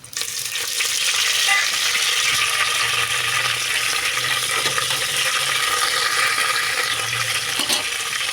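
Fresh mint hitting onions frying in oil for chicken biryani, a steady close sizzle and crackle with faint stirring scrapes, holding at an even loudness throughout.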